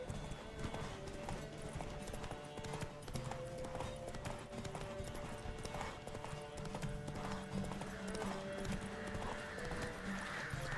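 Rapid, steady hoofbeats of a galloping horse in a horse race in the video game Witcher 3 run throughout with continuous game music over them, at a constant loud level.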